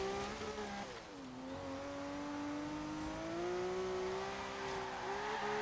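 A 1980 Subaru BRAT GL tuned to 660 horsepower races in Forza Horizon 3, its engine droning steadily with a rising, slightly wavering pitch after a brief dip, loud and continuous with no talking.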